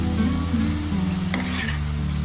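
Spice paste stir-fried with onion and tomato for an egg curry, a steady close sizzle with occasional stirring scrapes beneath a prominent tonal hum.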